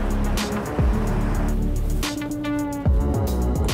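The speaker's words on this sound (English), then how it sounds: "The last car is through." Cars roll across the Köhlbrand Bridge in Hamburg just before it closes for bearing replacement work. A continuous low traffic rumble is broken by two distinct vehicle passes whose engine drone sweeps downward, heard fairly close and loud.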